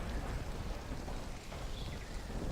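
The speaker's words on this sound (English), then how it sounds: "That was a lightning strike." A lightning strike in Stranded: Alien Dawn, a video game, lands as a steady wash of rumbling thunder over heavy rain, dense and continuous throughout.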